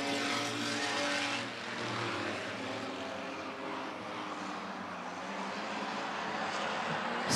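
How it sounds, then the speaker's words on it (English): Race cars in a sixers feature at Rockford Speedway drone steadily and loudly, several engines layered together in a continuous roar that swells slightly as the pack runs. "Sutherland gonna get away a little bit as Miller works to the outside for second"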